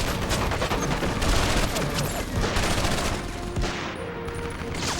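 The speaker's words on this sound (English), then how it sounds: "MG-42! Watch out!" Heavy, sustained automatic gunfire from an MG-42 machine gun in the World War II shooter Medal of Honor: Vanguard, a dense continuous barrage of shots with booming bursts filling the whole stretch and no talk.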